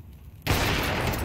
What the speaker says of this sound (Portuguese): era um tiro difícil